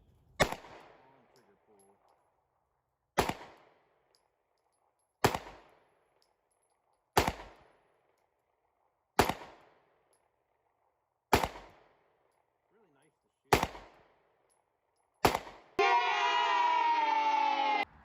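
A Walther P5C pistol fires eight evenly spaced single shots at 25 yards, each a loud crack with a short decaying echo, followed by a sustained noisy burst at the end.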